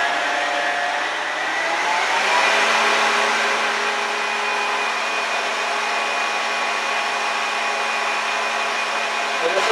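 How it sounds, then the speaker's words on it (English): An electric machine whisk whirs steadily while mixing cake batter, a loud, continuous motor drone holding even for the full stretch with no talking over it. "the best way to do this is to actually use a machine whisk rather than hand whisk"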